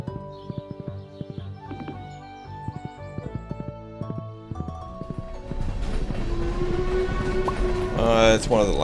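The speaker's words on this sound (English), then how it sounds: "It's one of the lame trains." A train rolls past in the farming video game Stardew Valley: after light game music, a broad, steady rumbling wash swells and holds for several seconds, with a brief whistle-like burst near the end.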